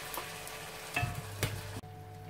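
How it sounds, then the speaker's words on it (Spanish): Sofrito fries in a casserole dish with a quiet, steady sizzle, broken by a couple of brief stirring clinks and scrapes before the sound drops off near the end. "Ya tenemos el sofrito casi pochado"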